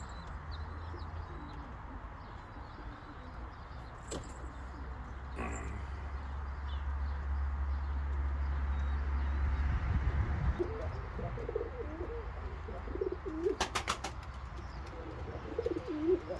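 Pigeons coo in low, soft repeated calls at a backyard loft of tumbler pigeons in Germany, with faint outdoor ambience, a few sharp chirps near the end and occasional distant voices.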